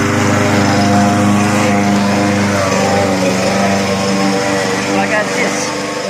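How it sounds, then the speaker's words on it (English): Lawn mower engine running steadily close by, a loud constant drone with a buzzing hum, while a person talks over it. "I don't know how well you can hear me with the lawnmower"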